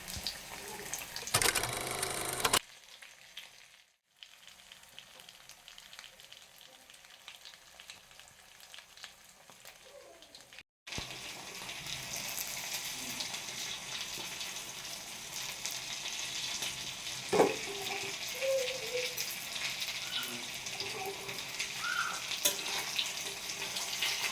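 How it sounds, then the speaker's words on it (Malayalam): Karimeen (pearl spot fish) being half-fried in hot oil with two sprigs of curry leaves, giving a steady close sizzle and crackle that drops out briefly before returning with a loud, continuous hiss. "രണ്ട് തണ്ട് കറിവേപ്പില നമ്മൾ ചൂടായ എണ്ണയിലേക്ക് ഇട്ട് കൊടുത്തിട്ട് അതിലേക്കാണ് കേട്ടോ നമ്മൾ ഹാഫ് കുക്ക് ചെയ്യാനുള്ള കരിമീൻ ഇട്ട് കൊടുക്കുന്നത്"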